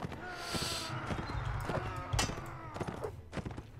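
Horse hooves clip-clop in quick, uneven beats alongside clashing battle noise and a brief whinny in Mount and Blade Warband, loud and busy throughout.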